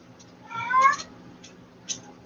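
A pet cat in a home with a dog gives one clear, drawn-out meow near the middle, followed by a brief, faint squeak or short call shortly after, against a quiet room.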